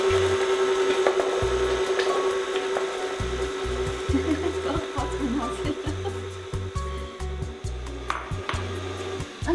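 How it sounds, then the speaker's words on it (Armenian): Electric mixer beating eggs at low speed into cake batter, a steady motor whine with repeated rhythmic thumping and scraping as the beaters knock the bowl, loud and close. "ձվերը քիչ-քիչ եմ ավելացնելու ու հարելու եմ ավելի դանդաղ արագության տակ"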